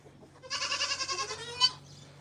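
A goat lets out a single close, clear bleat, a wavering, pulsing cry lasting about a second that ends on a sharp upturn.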